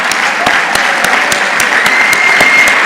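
Loud, dense audience applause for a student award winner at a national research festival in Kenya, steady throughout with a few sharper claps standing out.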